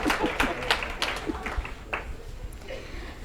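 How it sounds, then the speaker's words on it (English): An audience at an aging-policy summit conference breaks into applause, a burst of hand clapping that gradually thins and fades over a few seconds. "And I actually do deserve your applause because this is a hell of a group."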